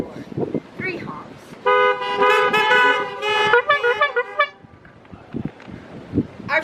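A car horn honks in three close toots, sounding outdoors amid voices and chatter from a gathering, loud against the talk.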